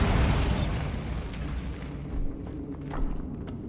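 A Bombarda spell blast in Hogwarts Legacy, a loud booming explosion that bursts at once and rumbles away, followed by a couple of smaller thuds and debris pops.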